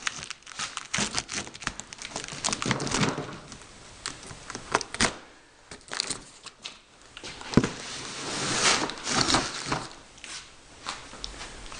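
Packing tape being torn and packaging crinkled while unboxing a Kreg Adaptive Cutting System (ACS), close and irregular bursts of ripping and rustling with brief pauses between.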